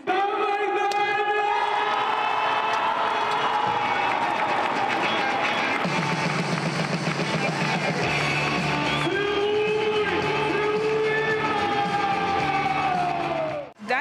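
Arena stands roaring in a sustained ovation at a football match, a dense, loud crowd wash with music or horn tones layered over it, fading out only at the very end.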